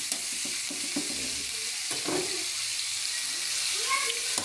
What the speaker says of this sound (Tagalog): Una muna nating sinangkutya itong ating pork liver.